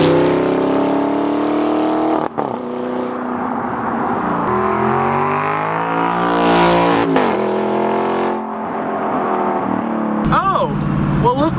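A loud straight-piped Audi R8 engine roars and revs close up, pitch rising and falling with gear changes, a deep throaty exhaust note throughout.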